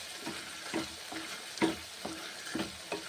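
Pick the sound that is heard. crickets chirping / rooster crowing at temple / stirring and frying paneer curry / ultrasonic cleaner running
stirring and frying paneer curry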